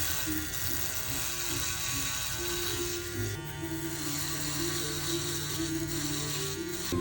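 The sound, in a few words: Play electric shaver running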